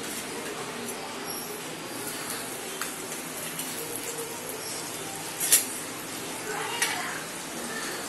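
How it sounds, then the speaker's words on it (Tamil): Butter melting in a pan for paneer cashew masala gives a soft, steady sizzle with a few faint clinks of a utensil. "இதல ஃபர்ஸ்ட் வந்து நம்ம வந்து பட்டர் ஆட் பண்ண போறோம்"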